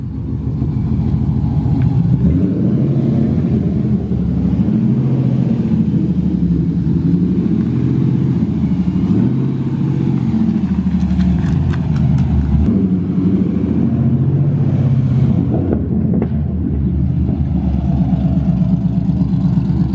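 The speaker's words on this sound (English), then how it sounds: "It's really weird hearing your car outside when you're so used to it from the inside, but it sounds crazy." A Nissan 350Z's engine heard from outside the car: a loud, steady low rumble that swells with revs and drops back, continuous throughout with no talking.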